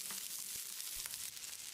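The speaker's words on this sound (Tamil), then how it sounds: "இதை லேசாக செவக்கிற அளவுக்கு வதக்கிடலாம்." About 150 grams of small shallots sauté in a pan for a Tamil country chicken curry, giving a steady, bright sizzle with a few soft stirring knocks and no talking.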